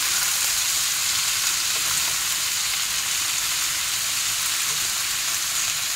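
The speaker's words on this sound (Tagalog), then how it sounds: "Yan guys, igisa lang natin, i-mix." Cabbage and carrots sautéed and stirred in a pan for sotanghon noodles, a loud steady sizzle filling the whole stretch, close up and unbroken.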